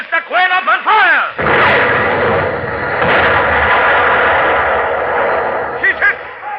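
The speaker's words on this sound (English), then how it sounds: "Open fire, Mr. Quinn! Open fire" Warship guns opening fire in an old radio drama, a loud sustained barrage of booming blasts that follows a few shouted voices and fades toward the end as more voices return.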